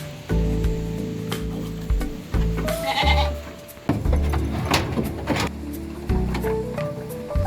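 Several goats bleat close by in repeated, wavering calls, some overlapping, with brief gaps between cries and faint rustling in the background.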